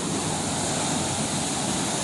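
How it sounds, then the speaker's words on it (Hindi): Water rushes through the opened gates of a barrage at Head Qadirabad, a dense, continuous roar that holds a constant level with no voices. "बहुत पुरसकून और सिर्फ पानी की आवाज़ है"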